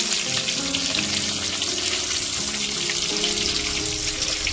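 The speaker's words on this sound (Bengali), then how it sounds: "দেখো আমি উল্টিয়ে পাল্টিয়ে দিচ্ছি, লাল লাল করে ভাজবো।" Hilsa fish pieces frying in hot oil with a steady, close sizzle and crackle that holds throughout, with no talking.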